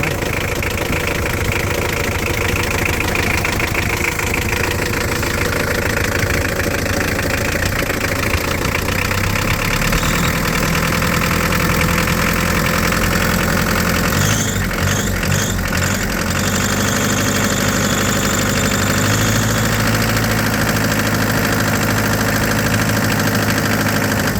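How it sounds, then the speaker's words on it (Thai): A used diesel pickup truck engine idles steadily with a rough, knocking chug that continues throughout, briefly changing tone midway. "เครื่องยนต์สตาร์ทติดง่ายครับผม ไม่ต้องเ้าหัวเลยฮะ"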